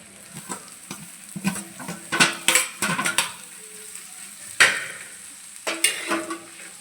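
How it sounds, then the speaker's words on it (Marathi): Dried fish (sukat) sizzles and crackles in a pan while a utensil stirs and scrapes it in irregular bursts, close up with no talking. "मस्त तीन चार मिनटं सुकट भाजून घेऊया"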